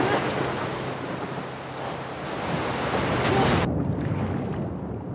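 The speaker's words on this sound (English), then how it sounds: "I might have to dodge those waves." Heavy, steady roar of ocean waves breaking along a shore in The Last of Us Part II. The dense washing noise is loud and continuous and cuts off abruptly near the end, leaving a duller rumble.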